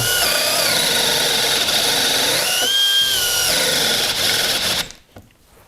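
A Milwaukee M12 FUEL drill driver whines at high speed while drilling, its pitch shifting as load changes, loud and close, then spinning down and stopping near the end.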